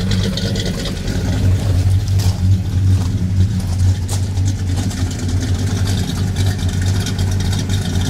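A low, throbbing old truck engine rumbles continuously nearby while driving, steady and loud, with a slightly uneven, labored tone.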